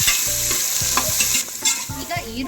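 Onions deep frying in oil for tomato bath crackle loudly and continuously, with repeated rhythmic scraping of a ladle against the pan standing out over the sizzle.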